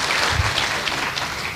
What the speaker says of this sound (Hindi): ये इस सिस्टम के लिए और सेब शॉप के लिए एक ज़ोरदार तालियां हो जाएं पहले तो